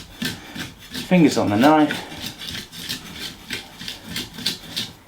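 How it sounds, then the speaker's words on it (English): Coarse salt grinds garlic into puree under a kitchen knife blade, making a steady rasping, scraping rub in repeated strokes, with a person speaking over it. "you can hear the salt grinding away"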